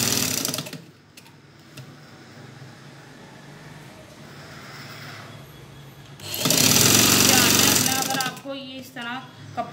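Sewing machine stitching a churidar pajama, a rapid mechanical rattle that runs loud at the start, quieter underneath, then surges strongly again before stopping, with a voice speaking between bursts.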